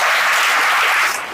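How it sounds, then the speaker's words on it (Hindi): A church congregation bursts into dense, loud applause during a sermon, with sustained clapping that tapers slightly at the end. "ताली बजा सकते हैं आप ना।"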